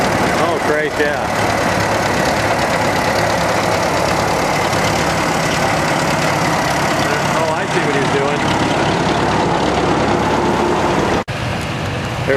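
Antique tractors idle at a Red Power Round Up tractor show, a continuous low engine rumble with mechanical chatter filling the scene, while people talk now and then over it.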